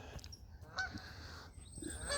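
A goose honks a few times outdoors by a lake near fishing platforms, faint and distant, with light background ambience and no speech.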